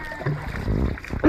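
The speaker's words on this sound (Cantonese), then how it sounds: "喺度撥水嘅" A dragon boat paddle strikes and churns the water near Ma On Shan in one brief, close splash. Voices murmur faintly in the background.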